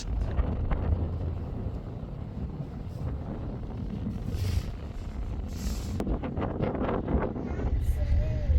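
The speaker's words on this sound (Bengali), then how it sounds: "শীত শীতল হাওয়া বয়ে যাচ্ছে" Cold night wind buffets the microphone on the deck of a river launch travelling from Barisal to Dhaka. It is a continuous rough rumble with gusts, under the low drone of the vessel and occasional voices.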